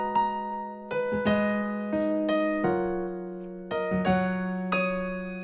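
Solo piano plays a song with a bouncing left-hand bass, sounding as a moderately quiet, steady series of ringing chords over a pulsing low line, close and alone with no voices.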